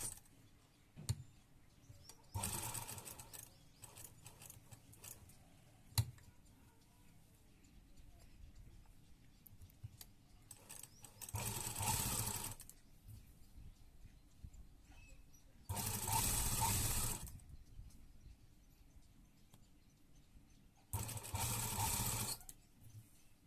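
A sewing machine stitches a designer neckline on a garment in four separate bursts of running, each a few seconds long, separated by quieter gaps with faint handling noises.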